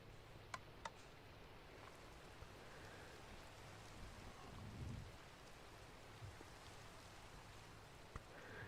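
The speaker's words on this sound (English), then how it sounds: "Let's run out here and look at the rain." Minecraft rain falling in a gentle, quiet, continuous hiss, with a low distant rumble of thunder swelling midway and a few scattered faint ticks.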